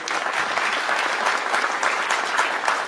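An audience claps loudly and steadily at the opening ceremony of a new candied-fruit factory, a dense, even roar of many hands sustained throughout with no pauses.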